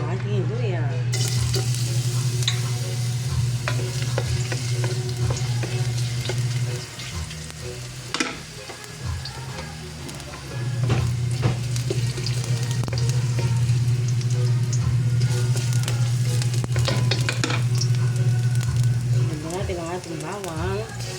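Ginger sizzling and frying in cooking oil in a home kitchen pan, a steady loud crackle throughout with occasional stirring clatter, while a person talks over it.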